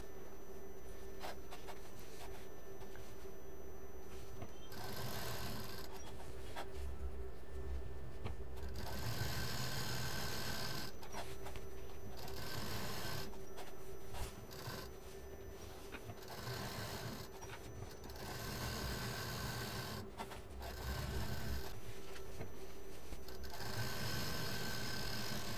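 A sewing machine stitches the belt seam of a large travel bag with double rows of stitching, a close continuous motor whir and needle clatter running in long bursts separated by short pauses.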